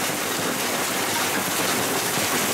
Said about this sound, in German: der Hagel kam